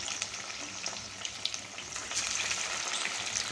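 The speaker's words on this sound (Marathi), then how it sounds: "तर चला आता आपले वडे आपण तळून घेऊया मस्त ब्राऊन कलरचे होईपर्यंत" Poha vadas deep-fry in hot oil, giving a steady dense sizzle and crackle that stays close and even, growing slightly louder partway through, with no talking.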